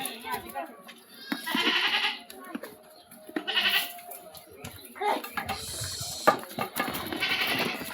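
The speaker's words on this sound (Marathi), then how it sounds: "हे बघा शेळ्या कशा आहेत." Goats bleat repeatedly at close range on a farm, several loud calls spread across the moment amid people talking nearby.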